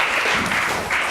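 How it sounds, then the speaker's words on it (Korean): Audience applause follows a 100-second speech at a startup weekend event, a brief, loud, steady burst of many hands clapping together. "박수 부탁드릴게요."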